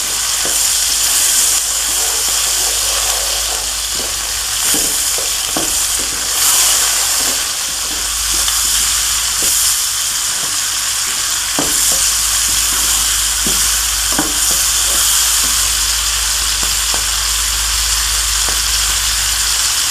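Vegetables and peas for vegetable fried rice frying loudly in a pan, a dense, continuous close sizzle and hiss with occasional scrapes and knocks of a stirring utensil, and no voices.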